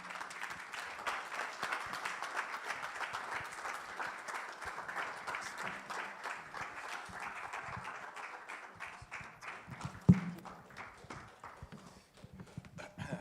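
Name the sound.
audience applause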